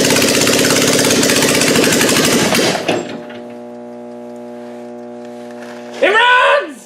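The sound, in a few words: hot-wired Toyota Camry engine running on carburetor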